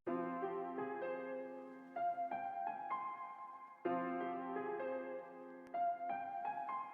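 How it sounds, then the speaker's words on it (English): Grand piano from a Kontakt sample library plays a sustained chord pattern over bass notes, clear and close with ringing harmonics, restriking in phrases roughly every second or two, with no voices. "The next one I added was this piano from Contact, a more grand piano, and it sounds like this."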